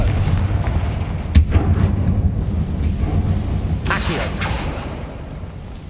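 Blasting spells in Hogwarts Legacy boom loudly and explosively, with two sharp bursts over a continuous rumbling game soundscape.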